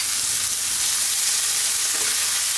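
Garlic ginger paste and onions frying in hot oil on high heat for a vegan potato mushroom curry, giving a loud, steady, close-up sizzle with no break.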